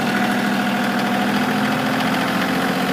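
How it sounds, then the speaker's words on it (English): A 2019 Kioti CK2610 HST compact tractor with a KB2475L backhoe runs its diesel engine at raised RPM, a loud, steady droning hum with rough vibration, close by and without talk. "We're going to put the RPMs up."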